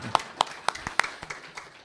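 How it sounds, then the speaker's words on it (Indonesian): A handful of sparse, separate hand claps from an audience at a lecture, applauding a doctor. About seven sharp claps are spread unevenly over a couple of seconds, fairly quiet against a low room background. "kita beri tepuk tangan dulu ya"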